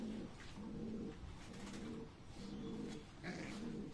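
Long-feathered pedigree pigeons coo in a loft, a soft, rhythmic run of repeated low coos, quiet and close, with no one talking.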